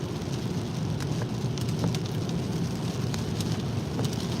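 Heavy rain falls during a rainy day, a steady, dense hiss that holds at an even level for the whole stretch, with no voices over it.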